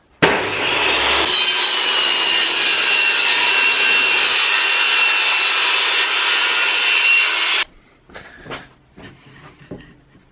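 A saw cuts steadily through a wooden board for a Christmas potion box, a loud, continuous rasping drone lasting several seconds before stopping, followed by a handful of scattered knocks and taps.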